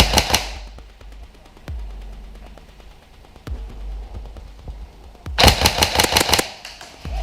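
A Tokyo Marui recoil airsoft gun fires outdoors during an airsoft game, with a few single sharp cracks spaced apart and then a rapid, loud burst of shots near the end.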